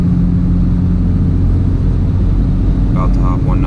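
A Toyota Supra with a failed AMS charge pipe cruising at highway speed, a loud continuous low engine and road drone close to the microphone, with a brief voice at the end.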